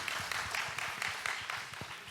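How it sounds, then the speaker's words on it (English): A forum audience at a global health assembly gives a round of applause, dense continuous clapping from many hands, steady and fairly loud across the whole stretch without speech. "okay, big applause."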